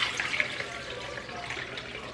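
Liquid is poured and strained through cheesecloth and a fine net to separate pulp from juice, giving a steady, soft splashing trickle that continues throughout at moderate level.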